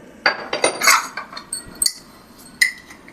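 Homemade protein powder ingredients being pounded and stirred in a bowl, giving a run of sharp metallic clinks and knocks, irregular and close, with short pauses between strikes.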